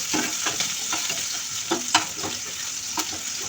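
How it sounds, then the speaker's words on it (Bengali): Onions fry in hot oil in a wok as the first step of a home-style prawn dish, hissing steadily up close, broken by soft scraping and stirring knocks. "পেঁয়াজগুলো হালকা ভেজে নেব"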